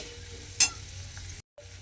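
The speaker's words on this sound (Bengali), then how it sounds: "কিছুটা কুচনো কাজু আমি ঘিয়ের মধ্যে দিয়ে দিলাম দিয়ে এবারে কাজু বাদামটাকেও একটু খুব ভালোভাবে ভেজে নেব" Chopped cashew nuts frying in ghee, giving a soft close sizzle with one brief sharp scrape of stirring and a short cutout near the end.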